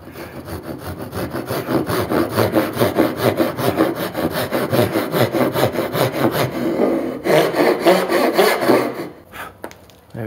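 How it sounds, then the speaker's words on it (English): Hand saw cuts off the old corner of a wooden board in fast, even back-and-forth strokes, close and loud, ending with a few rough final strokes. "And then chop the old corner off."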